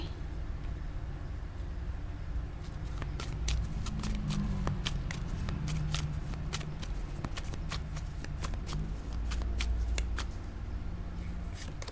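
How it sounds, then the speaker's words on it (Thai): A deck of tarot cards is shuffled and drawn in a quick flurry of close, crisp riffling snaps over a low steady background hum, with no speech. "มันเหมือนจะต้องเปิดไพ่เพิ่ม เพื่อขยายความนะคะ"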